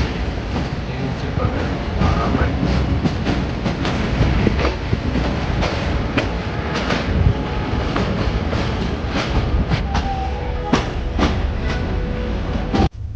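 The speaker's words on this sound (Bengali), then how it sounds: "আমরা এখন ট্রেনে করে 65 কিলোমিটার যাবো" A passenger train running on rails between Rajshahi and Rohanpur in Bangladesh, heard from inside as a steady, loud rumble with repeated wheel clicks and clacks throughout.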